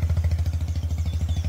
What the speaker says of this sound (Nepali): यो आवाज सुन्दैछ यो मोहन दाजुको बाइकको आवाज हो है।